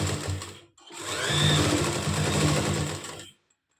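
Electric sewing machine stitching a halter-neck winter kurti, a steady close whirring run that stops briefly, restarts and hums for a couple of seconds before cutting off, no talking.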